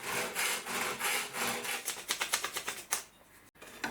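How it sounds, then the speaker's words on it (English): A wooden strip for a camping catamaran's aft deck is cut with quick, rhythmic rasping strokes, close and fairly loud, speeding into short, even pulses before stopping. "cut strips according to the relative width of each bulkhead"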